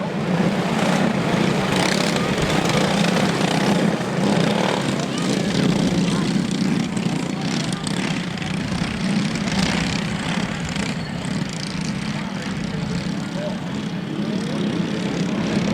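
Racing karts in an adult class heat pass on an oval race track, a continuous buzzing engine drone swelling and fading as they come by, with an announcer talking over the noise.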